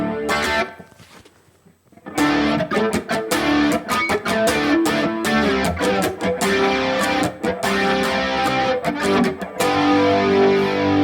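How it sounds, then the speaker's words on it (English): After a brief quiet moment, a loud distorted electric guitar on a split bridge pickup through a Valeton GP-200 with a shimmering chorus effect and no delay plays chugging chords and riffs, up close and continuous. "Maybe the chorus doesn't sound that nice with distorted tones."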